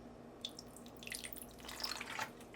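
White vinegar is poured into a spiced chicken marinade, giving a faint, brief trickle of liquid with light splashy drips close by and no talk.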